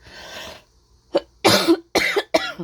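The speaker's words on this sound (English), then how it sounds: "Pardon me, really coughing today." Several harsh coughs close to the mic: one rough burst, a short pause, then a quick cluster of three loud coughs.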